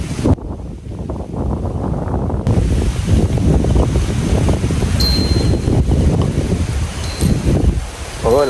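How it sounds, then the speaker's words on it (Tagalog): Strong wind roars steadily into the microphone, loud and rumbling, with gusty buffeting throughout and no speech, at SUVA Blessed Farm. "Oo, lakas ng hangin."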